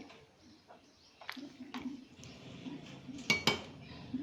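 Metal utensils scrape and clink against a pot while avarekalu rice bath is mixed, with several sharp clatters near the end and a faint background hum.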